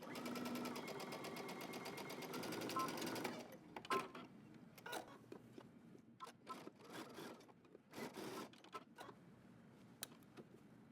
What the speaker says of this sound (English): Okay, we're stitching using 5/8 of an inch seam allowance.